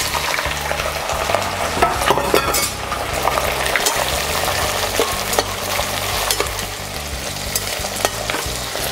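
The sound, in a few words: prawn heads frying in oil in a pot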